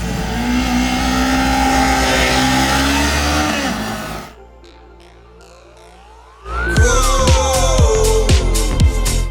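A 2023 Kawasaki Ninja 400 with a 399cc parallel twin engine, loud and close, holds a droning rev, drops to a quiet idle, then blips and revs sharply up and down several times.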